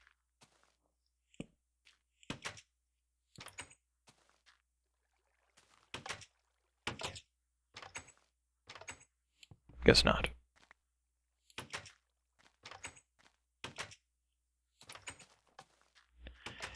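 Minecraft door opening and closing, a series of short wooden clicks and thunks in an irregular rhythm, with a voice speaking briefly between them.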